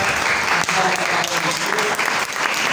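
A congregation in church breaks into sustained, dense applause, with voices mixed into the clapping throughout.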